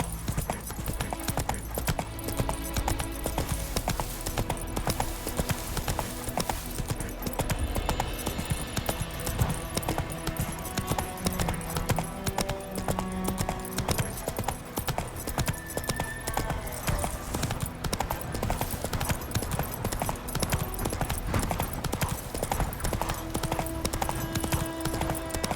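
Roach, the horse in The Witcher 3, gallops with loud, rapid clip-clop hoofbeats that run steadily throughout, layered over game music.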